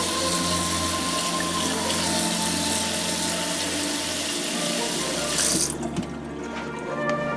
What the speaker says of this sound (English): So you're gonna rinse out your fruit like so.